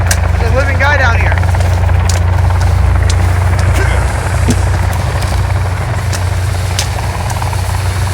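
Helicopter in the video game Sons of the Forest, a steady loud rotor and engine drone throughout with people talking over it.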